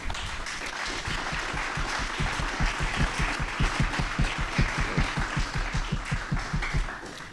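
Audience applause fills a panel discussion hall, a dense steady wash of many hands clapping at an even, lively pace, sustained at full strength for several seconds with no talk over it.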